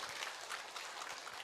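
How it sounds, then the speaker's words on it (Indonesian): Audience applause at a religious lecture in Desa Kedokan Bunder Wetan: a steady, dense patter of clapping that fills the whole moment without pauses, fairly faint and even, with no talking over it. "Tepuk tangan dulu dong, mantep banget"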